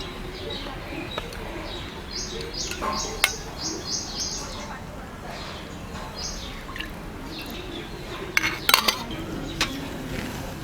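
A spoon knocks and scrapes against a pan while two spoons of oil go in for upma tempering, with light clinks throughout, a sharper cluster of metal taps near the end, and faint birdsong chirping in the background.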